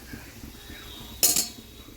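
A metal lid lands on a cooking pot with one brief clanking clink, close and fairly loud against a quiet kitchen backdrop.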